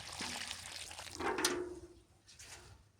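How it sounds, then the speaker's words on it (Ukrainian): Leftover water poured onto a newly planted fruit tree, a soft, brief splash and trickle that is quiet and close. "Та поливаємо рештою води."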